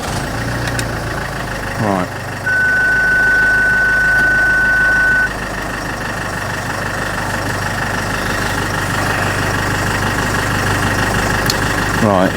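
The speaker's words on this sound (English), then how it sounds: "I'll start the engine, we'll see." A Land Rover Freelander's engine cranks and catches, then settles into a steady, close idle, with a brief electronic chime sounding just after startup and someone speaking briefly.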